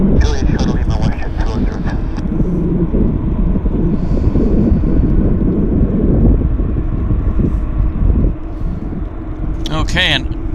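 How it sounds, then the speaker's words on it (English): A Boeing 787 Dreamliner taxiing on a wet runway, heard as a steady, loud jet engine roar mixed with wind noise, with brief talk at the start and near the end. "now the Dreamliner is moving"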